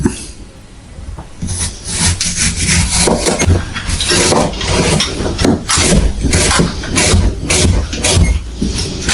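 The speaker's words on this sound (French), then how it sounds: "Suivant la taille des trognons, moi je préfère le faire au couteau." A knife cuts and scrapes through apples to remove the cores while preparing caramelised apples for a galette des rois. The cutting and rubbing is steady and close, with repeated scraping strokes and no talk.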